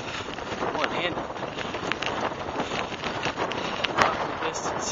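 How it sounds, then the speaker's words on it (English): Wind blowing steadily across an exposed hillside in February, a constant broad rushing roar buffeting the microphone, with footsteps and a brief sharper gust near the end. "Pretty windy."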